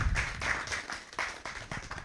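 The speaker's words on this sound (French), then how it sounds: "j'aimerais qu'on l'applaudisse encore très fort" Lively audience applause at a French-language youth event launch, with sharp, distinct claps in quick irregular bursts, close and fairly loud, briefly fading and rising again.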